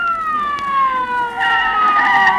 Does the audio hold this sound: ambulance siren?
yes